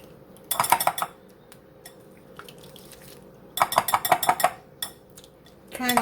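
A whisk beats banana cake batter and vanilla in a bowl, giving two quick bursts of rapid metallic clinking and scraping separated by quiet pauses, with a final short burst at the end.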